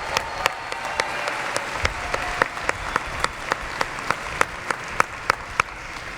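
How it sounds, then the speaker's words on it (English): An audience at a university graduation ceremony in an arena applauds the musicians, a steady wash of clapping with sharper individual claps standing out, moderately distant and sustained without speech. "Let's give them a round of applause."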